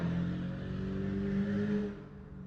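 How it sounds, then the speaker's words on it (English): A car drives past at a car meet, its engine rumbling and revving loudly up close, then fading as it moves away, with no talk over it. "Car sounded pretty good"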